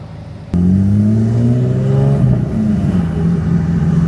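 Porsche GTS engine revving, starting abruptly and holding a loud, close rising engine note that climbs, eases slightly and continues strongly throughout, with no talk.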